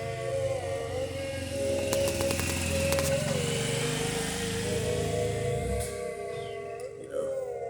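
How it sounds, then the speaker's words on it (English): A motorcycle passes by outdoors, its engine hum rising and holding steady for several seconds before fading away, heard from a moderate distance with no talking over it. "There's a motorcycle going by."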